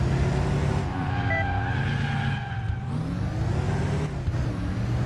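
Porsche Cayenne being driven in the video game Crash Time 3, a steady engine drone with tonal whine and a brief dip partway through, loud and continuous with no talking.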